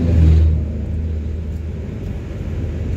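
A car idles in a vehicle queue at Tabaco Pier before boarding a RORO ship, a low steady engine rumble with a brief swell near the start.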